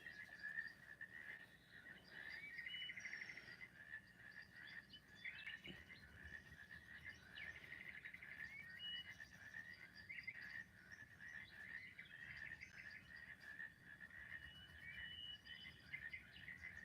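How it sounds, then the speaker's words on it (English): Frogs keep up a dense, steady chorus of high trilling calls that runs faint and continuous throughout, with no speech. "Oh no, the frogs died."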